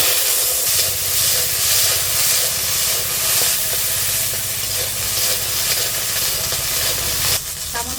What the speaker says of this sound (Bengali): মটরশুঁটিগুলো এবার ভেজে নেব।